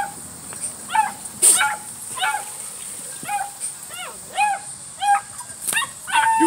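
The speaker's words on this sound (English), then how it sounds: "what are you barking at?" A dog gives a run of high yips and whiny barks, repeated in short bursts with brief pauses, close by.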